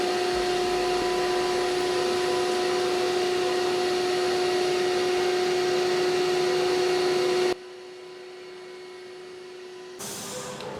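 A sump cleaner vacuums coolant from a machine sump with a loud, steady whining roar that cuts off abruptly, leaving quieter background hum before a brief restart.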